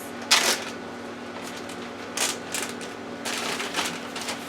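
Crinkly rustling of 3-gallon plastic storage bags being handled and packed with portions of meat, a few sharp crackling bursts with quieter shuffling between.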